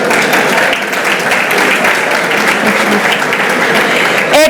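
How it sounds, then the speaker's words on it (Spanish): Audience applause from a seated crowd at a leadership and productivity talk, steady and sustained dense clapping filling the hall with no break, swelling slightly near the end. "O Héctor só sobe se ouvir aplausos."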